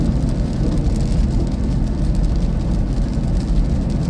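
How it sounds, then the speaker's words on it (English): Steady, dense rain during severe weather in Iowa fills the scene with a continuous low hiss and patter, even and unbroken throughout. "Back in the rain."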